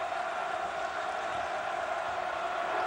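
A basketball arena crowd roars steadily after a made free throw in a men's college game between UW and Oregon, a sustained wash of cheering and voices at even loudness throughout.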